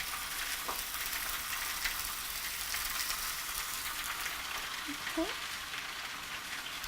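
Seasoned pork with garlic powder and onion powder frying in a pan, making a steady bright sizzle that stays even and close. A couple of faint clinks or squeaks come near the end, with no talking.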